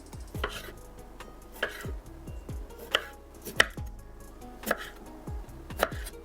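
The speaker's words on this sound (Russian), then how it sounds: "Помидоры черри разрежу пополам." A knife slicing cherry tomatoes in half on a cutting board, close and crisp: a steady series of sharp chopping taps, about eight or nine evenly spaced thuds, with no talking.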